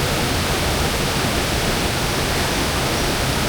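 Dense, steady rushing hiss of heavy rain at a riverside campsite, loud and unbroken throughout, with no voices or other distinct sounds.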